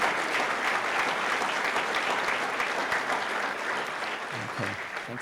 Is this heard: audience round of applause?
yes